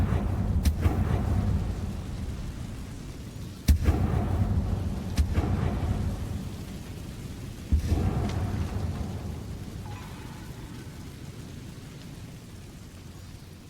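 A Confringo explosive spell cast in Hogwarts Legacy sets off several heavy booming blasts, each with a rumbling tail, over a constant low ambient wash.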